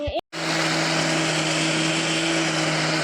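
A kitchen mixer grinder grinding muthiya runs loud and close with a steady high-pitched whine, starting abruptly after a short pause and continuing without interruption.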